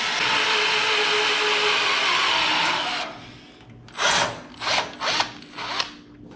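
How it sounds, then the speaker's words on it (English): A power drill bores into a car's steel frame member for countersunk screws, grinding steadily for about three seconds, then four short separate bursts of drilling follow with quiet gaps between them. "So I need to drill into here."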